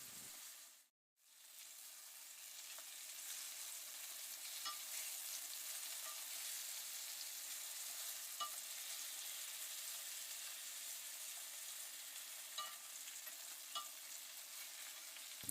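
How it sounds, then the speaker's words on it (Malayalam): Diced potato and carrot sautéing with onion in a pan for a Kerala-style chicken stew: after a sharp cut-off at the start, a soft, steady frying hiss runs throughout with a few faint ticks of stirring, quiet and close, no speech. "നമുക്ക് ഡൈസ് ചെയ്ത പൊട്ടാറ്റോയും ക്യാരറ്റും ചേർത്ത് കൊടുക്കാം. ഇനി ഇതൊന്ന് നന്നായിട്ട് സോട്ട് ചെയ്യുക."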